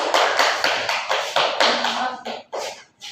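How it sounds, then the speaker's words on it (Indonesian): Students in a classroom clap in a quick, uneven rhythm of distinct claps, close and fairly loud, fading and trailing off after about three seconds. "Beri tepuk tangan."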